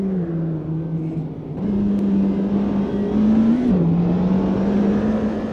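A McLaren Senna in the Automobilista 2 racing game accelerates hard down the Dottinger Straight, its engine a loud, close, sustained drone that climbs in pitch, briefly dips at a gear change and rises again.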